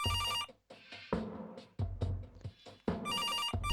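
Kathy Rain video game phone ringing: an electronic trilling ring at the start and again near the end, with muffled game sounds and thumps in the gap between rings.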